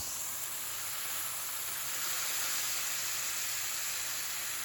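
A burger patty for a Gouda burger sizzles steadily under a press on a hot cooking surface, giving an even, continuous hiss with no talking.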